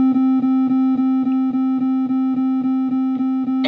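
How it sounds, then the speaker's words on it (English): A simple steady tone played from a computer-programmed maker device, pulsing in an even rhythm of about a dozen repeated beeps over a constant hum, close and clear, ending with a brief burst of noise. "we wanted to play a tone"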